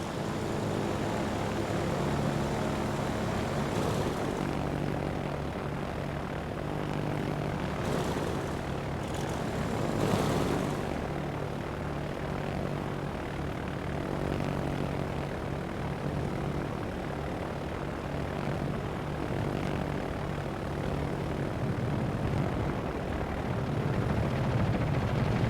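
Aircraft from a German carrier in World of Warships relaunch with torpedoes, a steady droning propeller-engine roar that fills the whole span at constant loudness, with faint intermittent thumps of distant gunfire beneath.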